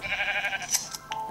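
Sheep bleating in the Minecraft video game, a short wavering nasal bleat followed by a couple of quick higher blips, fairly clear against a quiet background.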